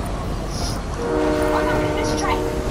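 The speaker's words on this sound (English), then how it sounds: "the train's not going to bring us into the circle anymore" A train passes in the Fortnite Chapter 5 video game, a steady rumbling roll with horn-like tonal bands rising midway, loud and continuous throughout.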